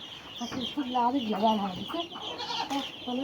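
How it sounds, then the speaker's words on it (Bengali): Birds cluck and call in soft, warbling bursts nearby, with a voice faintly talking in the background. "হাঁসগুলো কি সুন্দর।"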